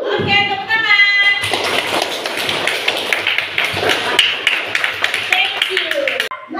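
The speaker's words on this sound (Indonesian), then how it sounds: "Oke, tepuk tangan." A class claps hands together in a loud, sustained burst of clapping close by, after a teacher's brief spoken prompt, with scattered taps and voices mixed in before it breaks off.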